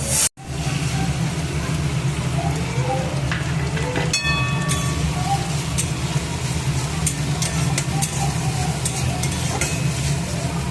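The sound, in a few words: chili and poppy seed paste frying in pan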